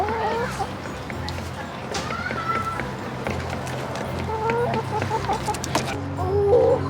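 Chickens cluck and squawk at a garden nursery in Oviedo, Florida, several scattered calls over busy background noise with people talking nearby.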